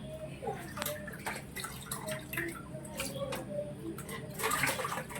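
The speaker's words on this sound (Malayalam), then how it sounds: "നമ്മൾ ചെമ്മീൻ്റെ കഴുകി എടുക്കുവാണ്." Water drips, splashes and gurgles as prawns are washed in a bowl of water in a kitchen, with soft handling sounds and a faint voice in the background.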